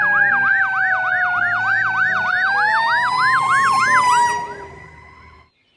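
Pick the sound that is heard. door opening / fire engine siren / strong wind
fire engine siren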